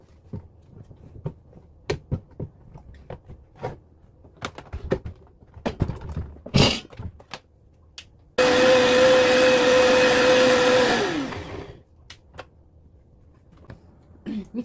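After some clattering and handling noises, a blender roars loudly for a few seconds grinding garlic with water and salt, then winds down and stops.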